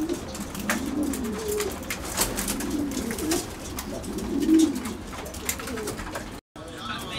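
Racing pigeons coo repeatedly in soft, rolling low calls at a loft before a young-bird derby, with several overlapping birds close by and faint background noise.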